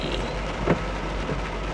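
Heavy rain pouring during a storm in Los Angeles, a dense continuous hiss with a soft low rumble underneath and one brief louder swell partway through; no talk.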